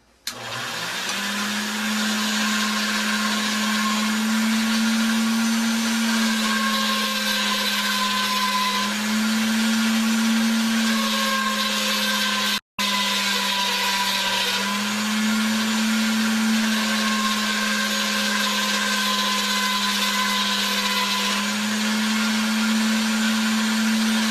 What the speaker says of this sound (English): on progressively thinner settings of the pasta machine until we get up to about a number 6 on my machine